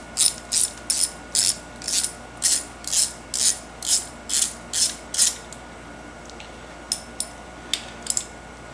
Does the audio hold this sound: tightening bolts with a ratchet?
yes